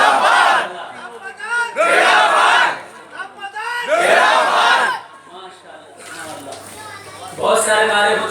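A crowd at a religious gathering chants slogans in loud, unified bursts, roughly four call-and-response waves separated by quieter pauses with scattered voices.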